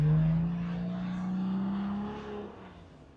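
Mercedes G-Class engine working to climb a steep off-road hill, a steady droning growl that holds under load, gradually rising in pitch, then fading slightly, close and continuous without speech.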